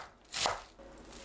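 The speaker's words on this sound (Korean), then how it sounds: "씻은 양배추를 채 썰어주세요." Washed cabbage sliced into thin strips with a knife on a board: a single soft, close chopping stroke rises briefly out of near quiet, with no voices.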